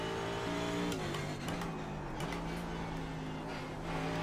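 A BMW race car engine in iRacing at Brands Hatch, loud and close, revving hard and shifting through gears with steady droning pulls and a couple of quick upshifts.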